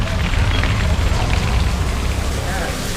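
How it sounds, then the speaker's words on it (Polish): Steady rain pours at an outdoor market in Jaffna, Sri Lanka, heard from under a roof: a loud, continuous wash of drops drumming on surfaces that never lets up. "bo tu pada. Niestety ciągle pada."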